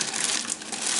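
Small plastic packet of hot-glue sticks crinkling as it is handled up close, a continuous dense rustle lasting about a second with no voices.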